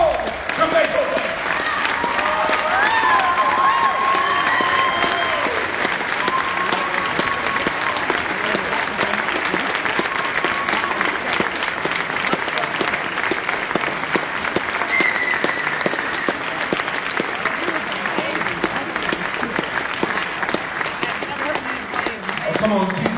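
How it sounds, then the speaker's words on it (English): Sustained audience applause with some cheering for Reverend Moss at a Manchester University Martin Luther King Jr. remembrance ceremony, a dense steady roar of clapping filling the hall for over twenty seconds with a few voices rising above it. "Oh, come on, keep clapping."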